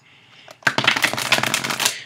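Rapid riffling and flapping of tarot cards being shuffled, a brief soft tap first and then a dense, continuous papery burst up close.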